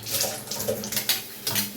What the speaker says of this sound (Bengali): জল